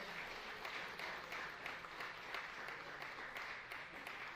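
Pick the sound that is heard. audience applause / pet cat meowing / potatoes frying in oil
audience applause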